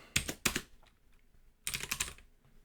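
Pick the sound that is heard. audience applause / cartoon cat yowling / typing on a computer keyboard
typing on a computer keyboard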